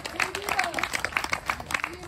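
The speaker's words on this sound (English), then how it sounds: "let's give her a big applause" Audience applause for Mimi Kennedy at a political gathering: steady, fairly quiet rhythmic clapping from a crowd, with voices and a speaker talking over it throughout.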